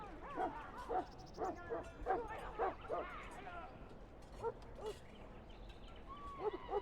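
A Mabari war hound from Dragon Age: Origins gives a string of short yips, whimpers and barks in a castle setting, rhythmic bursts with brief pauses, fairly close and moderately quiet.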